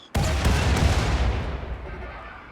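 Mortar fire from a mech cluster in Rimworld lands as one sudden, heavy boom that rumbles and rolls off over a couple of seconds, heard alone.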